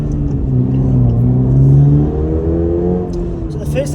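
Toyota GR86 rear-wheel-drive sports car pulling away on a drive, its engine note rising and falling through the revs as it accelerates, heard close from inside the cabin.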